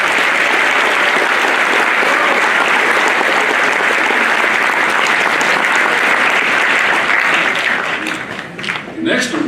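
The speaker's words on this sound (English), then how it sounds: "Please give these students a round of applause." Loud, dense audience applause at a 2018 high school awards ceremony honoring students, sustained steadily before thinning out near the end.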